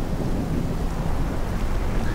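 Loud, dense rainfall in the Morrowind video game, a continuous low rushing roar like a heavy downpour with wind, steady throughout with no talk.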